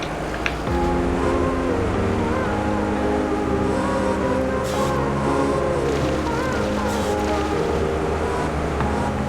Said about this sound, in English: let's jump into the excavator and get some logging started.